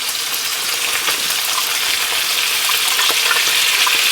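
Onion and garlic frying in a pan, a steady bright sizzle close up with small crackles and pops, no talking.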